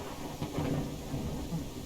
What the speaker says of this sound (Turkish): bu oyunda şu yağmur yağma efekt sesi, gök gürültüsü